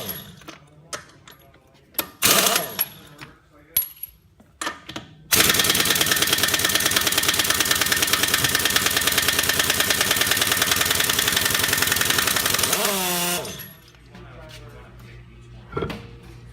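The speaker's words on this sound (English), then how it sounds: "impact wrench." Impact wrench working on diesel truck air brakes, a loud sustained rattling burst lasting about eight seconds, with clanks and handling noises before and after.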